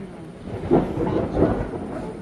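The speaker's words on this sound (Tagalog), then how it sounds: "parang malakas tong ulan na to, Kategram." Heavy rain hisses steadily with low rumbles of thunder rolling in twice, a muffled, continuous downpour heard from indoors.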